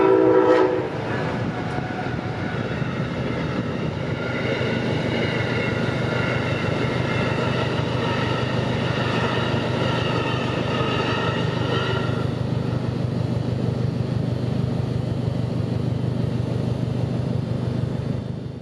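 Freight train PO41 rolling through the Wabash Avenue crossing in Central Florida, a loud close horn blast sounding over the first dozen seconds above the steady rumble and clatter of passing rail cars, which continue alone to the end.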